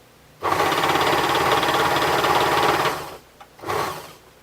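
An overlocker sewing machine runs fast for about two and a half seconds, stitching up to the fabric edge with a dense, buzzing mechanical whir, then stops and gives one brief second burst, close and loud.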